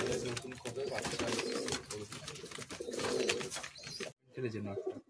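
Madrasi high-flying pigeons coo in a Kolkata loft, soft repeated calls blending under steady nearby talk, with a brief silent gap near the end before the voices and cooing resume.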